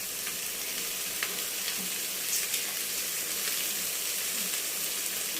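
Cabbage dropped into a pan of hot frying masala gives a steady, soft sizzle with faint stirring scrapes, moderately close and with no talking.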